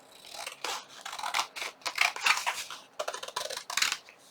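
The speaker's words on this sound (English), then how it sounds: "And then we're going to just trim this part off right here." Scissors snip through paper in quick, close crunchy cuts, a dozen or so irregular strokes with short pauses, fairly quiet and with no talking.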